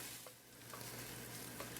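Onions caramelize in a pan for Spanish rice while being stirred. The sizzle is soft, steady and close, broken by a few light scrapes.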